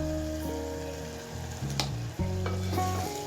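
Turmeric powder gets stirred into onion and tomato frying in a pan, a continuous close sizzle with scraping stir strokes and a sharper clack partway through, no talking.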